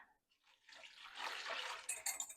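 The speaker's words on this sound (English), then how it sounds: "we're gonna pour it right on top of the chuck" Liquid poured over a chuck roast in a crockpot, a soft, steady splashing pour lasting a couple of seconds, quiet and close, with no talking.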